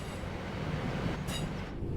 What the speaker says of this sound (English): Bring this train to a complete stop by moving the power brake handle into the braking range.